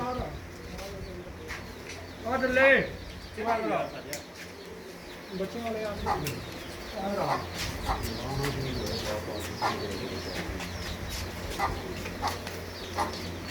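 Flying pigeons kept by a breeder coo in soft, repeated bursts nearby, mixed with occasional wing sounds and someone talking.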